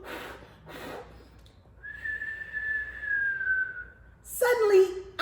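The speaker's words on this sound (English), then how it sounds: "Suddenly, out came a whistle." A person whistles one long, steady sustained tone for about two seconds, preceded by breathy puffs and followed by a voice speaking.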